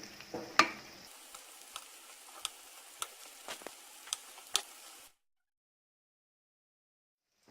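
Balushahi fries in oil until golden brown, giving a soft, steady sizzle dotted with sharp ticks and pops, close by, before the sound cuts off abruptly into silence.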